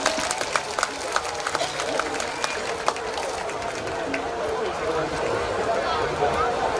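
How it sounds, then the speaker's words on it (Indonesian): A crowd applauds at the closing ceremony of a regional fair, with a thick wash of clapping and crowd noise and occasional sharper claps, while a voice talks over it. "Tepuk tangan dong untuk Bank Jateng."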